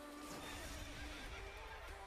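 A horse in the Bayonetta 2 video game gives a wavering, fairly quiet neigh and whinny over a steady game background.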